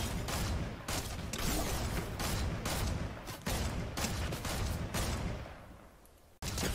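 Dense, rapid gunfire crackles almost without pause as a Fortnite squad shoots thermal enemies, with bursts layered over one another and fading briefly near the end before a final shot.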